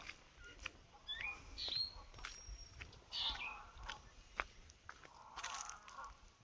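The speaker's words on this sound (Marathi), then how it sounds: "इतर पक्षी वगैरे यांचे आवाज" Several short, high chirping bird calls come and go over a quiet outdoor background, with a few faint clicks and rustles between them.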